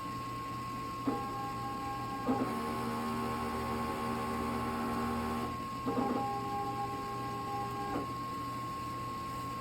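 An inkjet printer whirs and hums through repeated mechanical cycles, with clicks as the motor starts and stops during print head cleaning.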